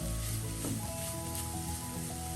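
Grated carrot for a Kerala carrot thoran stir fry sizzles steadily in a pan while being stirred, a close, continuous crackle with faint tonal sounds underneath.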